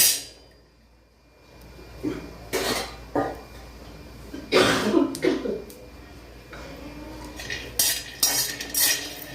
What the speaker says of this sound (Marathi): तर बघा शेंगदाणे भाजून घेते मी